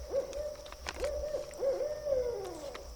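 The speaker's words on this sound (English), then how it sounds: "The owls are crazy now." Owls hoot at night in a series of clear tonal calls, three or four hoots at moderate distance with a steady faint background hum and no talking.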